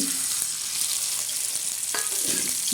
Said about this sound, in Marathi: मस्त असा तळून घेणार आहोत